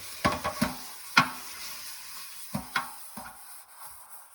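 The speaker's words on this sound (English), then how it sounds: "I will wipe this thing over and over to get most of that Pam off." A cloth wipes Pam cooking spray off a cast iron pan that is being restored. It makes a few scattered, close scrapes and light knocks with quiet gaps between them.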